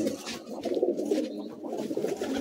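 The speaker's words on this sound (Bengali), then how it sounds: "এগুলো নর পায়রা" Male pigeons in a loft give a run of low, rolling coos that overlap each other continuously at close range, without any voices.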